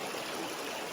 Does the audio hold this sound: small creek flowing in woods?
yes